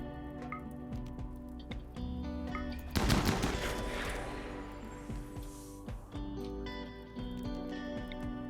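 Gunfire in the colony-building game Rimworld, a dense burst of rapid shots starting near the middle and rattling on for a few seconds, set over steady game music and sparser clicks.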